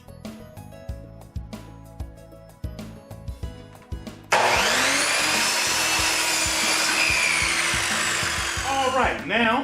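A saw cuts wood for the leaf of an 80-year-old dining table under restoration. A few scattered knocks come first, then a loud, continuous high-pitched sawing whine runs to the end.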